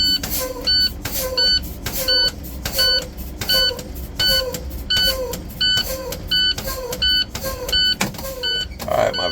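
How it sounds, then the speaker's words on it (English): School bus air brakes are fanned in a steady rhythm of about a dozen sharp hissing releases, each paired with an electronic warning beep, close and loud, continuing until the emergency valve pops out. "I'm going to fan my brakes until my valve pops out, indicating my emergency spring brakes have been applied."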